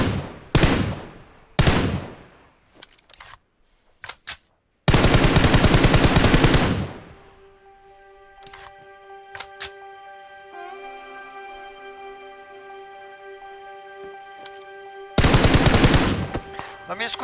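Gunfire in a BGMI (PUBG) firefight: dense automatic bursts come in several loud volleys, with a sustained stretch of rapid fire, between quieter pauses that carry a steady tonal game hum.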